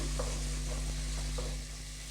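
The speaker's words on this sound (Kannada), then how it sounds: "ಇದು ಹಾಗೆ ಸ್ವಲ್ಪ ಫ್ರೈ ಆಗಿ ಹಾಕ್ಬಿಟ್ಬಿಡೋಣ" Ingredients with butter frying in a pan for coriander leaf rice give a steady, close sizzle with faint stirring scrapes, alone with no talking.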